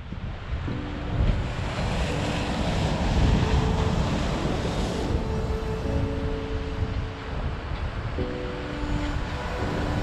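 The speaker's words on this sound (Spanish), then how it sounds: "Ya es una ola tras otra y con mucha agua" Rough surf breaks over and over along a shore where someone is fishing for elephant fish, a continuous loud wash of water and wind buffeting with a few faint tonal hums, no talk.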